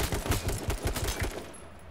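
Rapid video game gunfire crackles in a dense burst of repeated shots, loud and close, before trailing off near the end.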